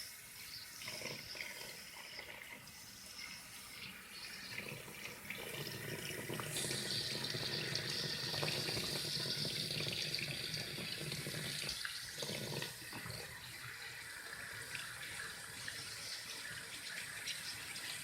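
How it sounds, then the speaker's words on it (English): Cold tap water gushing steadily into a sink over hot somen noodles, close and continuous, with a slight swell in the middle before settling. "Make sure you're running lots of cold water in here."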